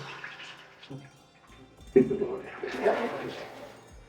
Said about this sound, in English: it actually does a full flush